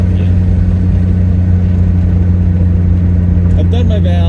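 Car engine idling at low RPM with a misfire that recurs under medium load, producing a steady low rumble with strong constant tones and faint irregular stumbles, recorded close from inside the moving car at a bit over 30 mph.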